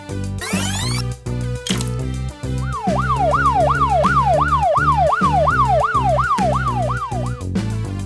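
Police car siren wails in a fast repeating up-and-down sweep over a loud rhythmic musical backing with swooshing effects, the siren running for several seconds before fading out.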